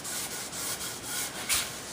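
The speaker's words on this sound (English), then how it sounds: "It doesn't take a whole lot of pressure or a whole lot of aggressive sanding" Wood is sanded by hand with light pressure in a rhythmic back-and-forth rubbing, close and steady, with one brighter, harsher stroke near the end.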